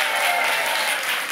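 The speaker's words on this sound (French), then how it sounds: "Merci d'applaudir" A French television studio audience claps in a dense, even burst of applause that is loud and close and lasts a short moment with no one speaking over it.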